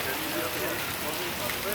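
Monsoon rain pours down during the first rain of the Sawan season in Faisalabad, a steady, dense hiss that holds evenly throughout without a break.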